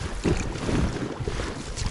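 Steady wind buffets the microphone while water sloshes and slaps against a small fishing boat on the Dnieper River.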